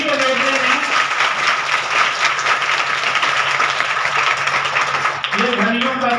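An audience at a chaturmas satsang at Batlaiya ashram bursts into sustained applause, dense and loud throughout, while a voice talks over the clapping at the start and again near the end.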